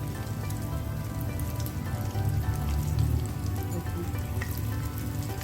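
Thread chicken fries slowly in hot oil, giving a steady, dense sizzle and bubbling crackle that carries on close up without pause.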